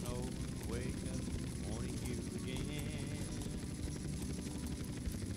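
Helicopter in the video game GTA San Andreas, a steady rotor and engine whir running continuously at moderate level, with game sounds layered over it and no talk.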